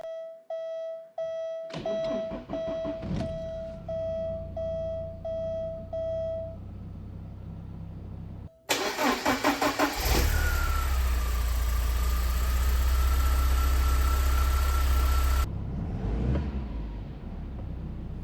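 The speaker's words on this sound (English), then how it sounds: "the engine started up the first time without any issue" Repeated beeping, then a Porsche 944 engine with a mass-air-flow kit cranks and catches, settling into a loud, steady idle close by before cutting off.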